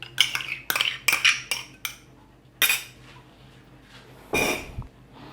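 Cake batter of milk, oil and yogurt being mixed in a bowl, heard as a handful of close, sharp utensil scrapes and clinks in short bursts, with quiet gaps between strokes and no talking.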